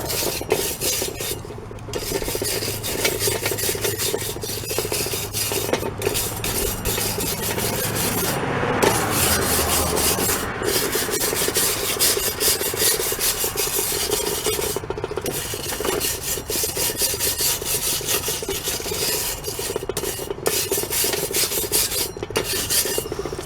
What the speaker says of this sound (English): I'm gonna take a wire brush and remove any of the loose, flaky rust